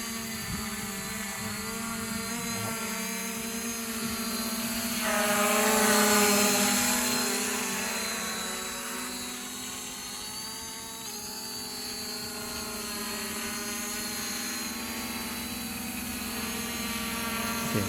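An MJX V6 GPS camera drone flies nearby, giving off a steady, high-pitched propeller whine with layered tones. The sound swells louder midway as the drone passes closer, then settles back.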